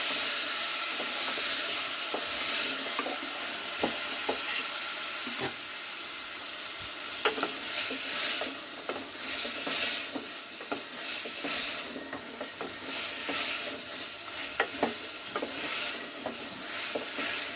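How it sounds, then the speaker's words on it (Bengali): Pumpkin leaf stalks fry with cumin powder and other spices in a pan, a loud, steady sizzle and hiss broken by repeated scraping stirs and clinks, with no voices. "এবার মশলার সঙ্গে আমি শাকের ডাঁটাগুলো কষিয়ে নেবো"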